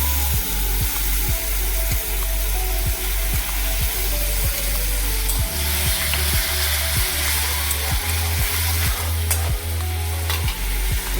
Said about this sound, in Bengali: দিয়ে আমি একটু কষে দিচ্ছি। এবার টক দইটা দিয়ে দিচ্ছি।